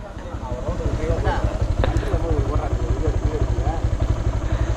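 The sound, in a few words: motorcycle being taken for a test drive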